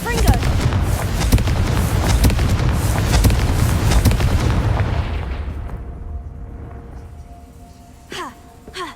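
A Confringo fire spell bursts in Hogwarts Legacy with a loud, dense explosive roar of crackling blasts that rumbles for several seconds, then fades into quieter sparkling tails and a brief later pop.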